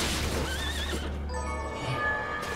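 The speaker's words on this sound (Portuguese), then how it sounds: "Cavalo infernal." A hellish horse in the video game Bloodstained: Ritual of the Night lets out a loud, wavering whinny over rumbling game noise, with hoof clatter beneath and ringing tones trailing after.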